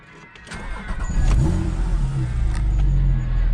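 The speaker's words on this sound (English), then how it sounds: "I'll just film starting it up so you can hear the difference that the sports exhaust makes." A Porsche Cayman S 987 Gen 2 with PDK and sports exhaust is started: a brief crank, then the engine catches with a loud bark and settles into a deep, steady idle close by.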